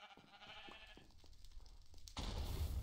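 Sheep bleating in the Minecraft-style Epicube arcade game, a boarding-sheep item, with a few short bleats over game background noise before a louder burst of sound takes over.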